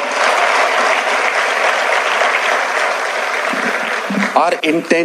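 Dense audience applause from a large crowd at a talk, holding steady and loud for several seconds before thinning out, with a voice starting to speak at the end.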